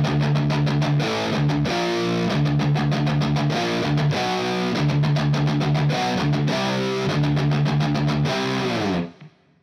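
Distorted electric guitar playing fast palm-muted alternate picking in a choppy 'helicopter' pattern, slightly below full speed, with steady chugging low notes and rhythmic gaps, loud and alone until it cuts off near the end.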